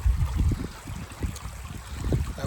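Water trickles and splashes through a hiking water filter on a long-distance trail, a close, uneven gurgle with no talking.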